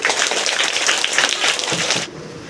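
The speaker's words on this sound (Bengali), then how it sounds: "সকলে হাততালি" Steady applause from an audience at a school farewell ceremony, loud and continuous for about two seconds before stopping abruptly.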